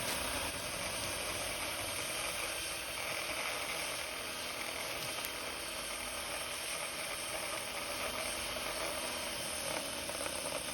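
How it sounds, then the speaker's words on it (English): A belt sander grinds steadily against a turned white oak base for a 60-inch dining table, a continuous dense mechanical whir held close and loud for the whole stretch without pause. "So he just belt sanded it for a while."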